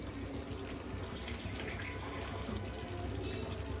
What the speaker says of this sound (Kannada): ನೋಡಿ ಮಿಕ್ಸಿ ಜಾರ್ಗೆ ನಾನು ಸ್ವಲ್ಪ ಹಿಂಗೆ ನೀರು ಹಾಕ್ಕೊಂಡು ಒಂದು ಚಿಕ್ಕ ಗ್ಲಾಸ್ ಅಷ್ಟು ಹಾಕ್ಕೊಂಡಿದ್ದೀನಿ